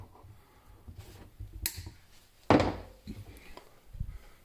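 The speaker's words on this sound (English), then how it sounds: "Just take any kind of cutters you have, cut the end off." Cutters snip the loose end off a black zip tie fastened on a SmallRig cage for a Canon M50 camera, giving a faint click and then one sharp, loud snap close by, with quiet background noise.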